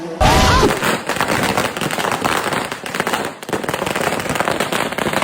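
Firecrackers burst in a rapid, dense string of loud cracks and pops, a sharp bang opening a continuous crackling barrage with a brief lull midway before resuming.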